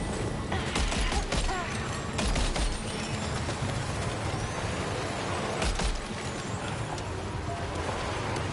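Gunfire in Death Stranding 2, rapid bursts of shots over a dense, steady background of mechanical and ambient game noise.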